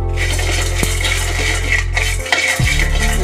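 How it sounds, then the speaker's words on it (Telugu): Coriander seeds and cumin tossed in a dry pan for roasting, giving a loud, close rattle and scrape of seeds and spoon against metal, with a couple of sharper clinks and a low background hum. "ఇందులో కొన్ని ధనియాలు వేస్తున్నాం, కొద్దిగా జీలకర్ర, ఇవి కూడా వేయించుకోవాలి"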